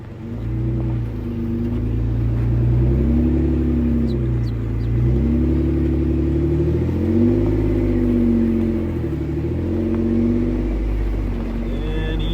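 A truck engine revs steadily and loud during a slow recovery pull of a stuck F350, a deep rumbling drone that rises and falls in long waves. A faint voice may sit underneath.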